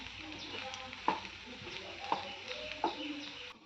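A spoon scrapes and stirs potato curry with chili powder in a sizzling pan, with three distinct clinks against the metal over a low steady frying hiss, close by and quiet.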